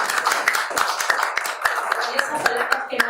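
A small audience at a Spanish-language journal presentation clapping, a dense run of close, sharp handclaps for a few seconds, with some voices mixed into the applause.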